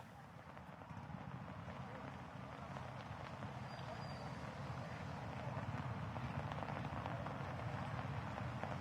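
Heavy rain falls at Infopark, Kochi, amid waterlogging: a fairly quiet, continuous patter and hiss of rain on surfaces that stays even and grows slightly fuller toward the end.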